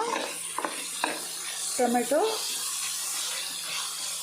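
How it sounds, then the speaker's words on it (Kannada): Tomato and onion with ginger garlic paste frying in a pan for a hotel-style paneer biryani, a steady soft sizzle with occasional stirring clicks and a brief voice in the middle. "ಟೊಮೆಟೊ ನೀರುಳ್ಳಿ ಜೊತೆಗೆ ಫ್ರೈ ಆವಾಡು ಅಂತ"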